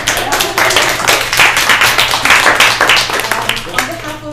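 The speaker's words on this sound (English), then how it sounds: "We can just give them a round of applause." Small audience at a tech meetup in Toronto applauds the speakers, a moderate patter of individual claps close by, with some talk mixed in.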